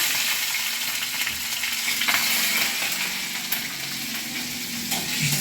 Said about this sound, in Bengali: তারপরে দেবো রসুন ফোড়ন ও কাঁচা লঙ্কা একসাথে দিয়ে দেবো